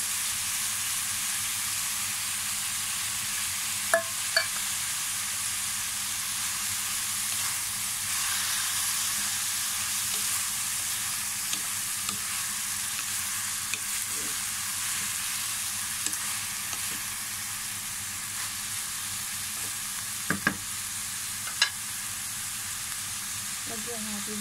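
Bitter melon and tuna flakes fry in a hot pan, giving a steady broad sizzle and hiss with occasional scraping and clinks of a utensil stirring, close and continuous throughout.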